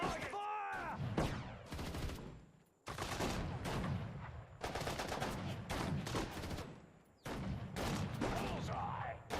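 Dense gunfire and explosions from units in the World War II strategy game Sudden Strike 4 at Dunkirk, sustained bursts of shots in several long volleys separated by brief pauses, loud and continuous.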